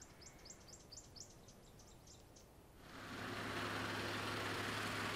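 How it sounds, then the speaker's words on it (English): Birds calling at a safari waterhole on Mabula Private Game Reserve: a quick series of faint, repeated chirps during the first half, then swamped by a steady engine-like rumble and broadband hiss that takes over the rest. "Just a beautiful, calm scene with the birds calling in the background."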